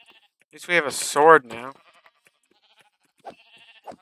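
Two short, faint Minecraft sheep bleats sound near the end, each one brief, after a person speaks loudly over a quiet game background.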